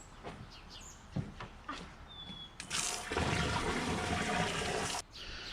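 Water gushes steadily for a couple of seconds filling a pebble pool water feature after a few scattered knocks and splashes, with faint bird chirps in the background.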